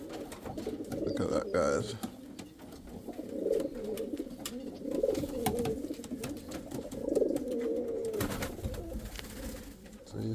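Indian fantail pigeons in a breeding loft give a steady stream of low, rolling coos with occasional squeaks, close by, while someone speaks now and then over them.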